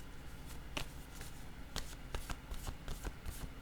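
Tarot cards shuffled by hand in a quiet room, a run of crisp riffling flutters and soft slaps arriving in uneven bursts across a few seconds, with no voices.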